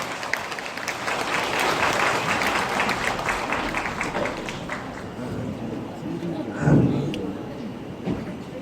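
An audience at a high school admissions briefing applauds to welcome a teacher: dense, steady clapping fills the room for several seconds, then thins and fades, with a brief louder knock near the end.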